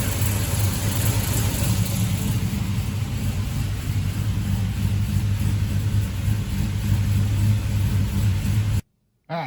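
A 1955 Buick Special with an LS turbo engine idling, a steady, close, low rumble with a hum that holds even throughout, no talking, and it cuts off abruptly near the end.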